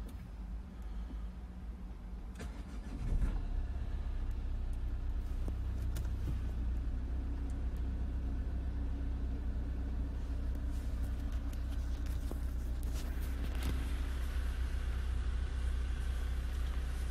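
A Nissan Qashqai 1.5 dCi diesel starts with a keyless button and then settles into a steady, low idle rumble that carries on close by with no talking.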